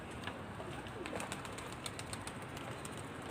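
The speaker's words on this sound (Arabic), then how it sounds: "عشان انا بقى بهدي الحمامتين" Pigeons coo softly in a loft or rooftop setting among bird sounds, with repeated faint calls and chirps over a steady background hiss for a few seconds; no talking.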